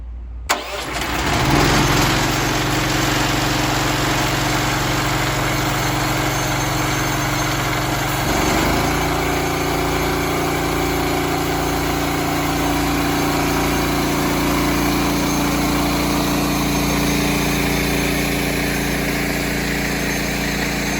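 A VMAC G30 air compressor, already warmed up, runs steadily under a test tool after an engine-start surge, holding a loud, continuous mechanical drone with a shift in tone partway through.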